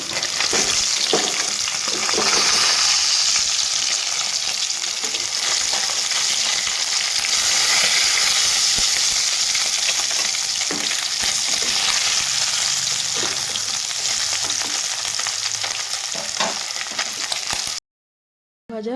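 Katla fish pieces frying in hot oil, a loud, dense, continuous sizzle with occasional crackles and spatters, close up, cutting out abruptly near the end.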